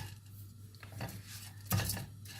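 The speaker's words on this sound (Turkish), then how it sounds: "Güzelce kavuracağız." Orzo toasting in a pot for chicken soup: a few soft metallic scrapes and clinks of a spoon against the pot over a quiet hiss, close and fairly faint, with no talking.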